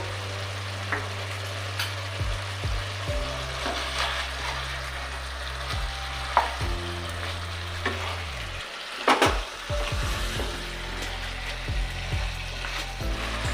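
Chicken frying in a pan as coriander paste and cashew powder are stirred in, a steady close sizzle with repeated scraping stir strokes and a few sharper clinks throughout.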